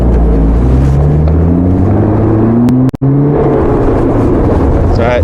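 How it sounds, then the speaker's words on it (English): Helicopter flying nearby during a rhino relocation, a steady loud engine drone with gliding rotor tones that rise and fall, sustained throughout with one abrupt brief dropout midway. "You can hear the chopper."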